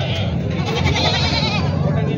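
Goats bleating at a crowded village goat market in Vasmat, Maharashtra, loud and close, with voices talking throughout.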